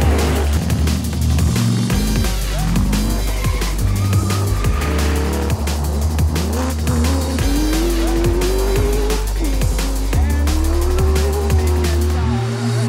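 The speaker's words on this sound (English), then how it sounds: "The man tasked with not only driving but building the Isuzu D-Max rally vehicle is Jewson." Isuzu D-Max pickup rally car racing hard in a British cross-country event, engine loud and close as revs climb and drop through gear changes, with tires squealing and skidding throughout, no voices.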